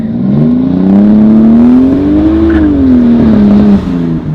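A small four-door car accelerates hard, its engine loud and close, with a strong revving whine that rises in pitch, eases, then climbs again before backing off.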